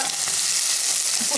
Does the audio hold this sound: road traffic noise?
no